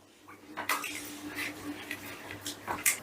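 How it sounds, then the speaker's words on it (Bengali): Spices and yogurt being stirred together in a bowl for chicken korma, a spoon scraping and clinking in irregular bursts, fairly close and moderately loud. "এবারে মশলাটা বেশ ভালো করে মিশিয়ে নেব"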